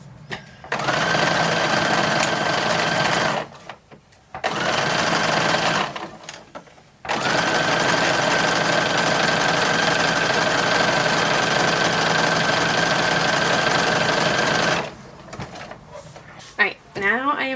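Sewing machine stitching the side seams of a 1930s dress, running in long steady whirring stretches broken by brief stops, close and loud, with a few small handling noises at the end.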